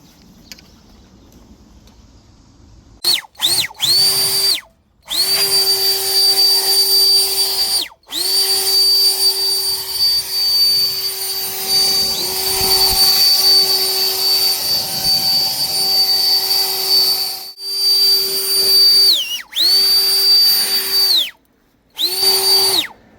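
A SAKER portable cordless leaf blower and dust cleaner whines loudly up close outdoors, switching on and off repeatedly in long steady bursts with short silent gaps, its high motor tone holding constant while running.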